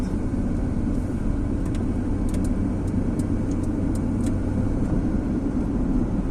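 Car driving from central Szczecin toward Dąbie, heard from inside: a continuous loud rumble of engine and road noise with a few faint ticks above it, and nobody speaking.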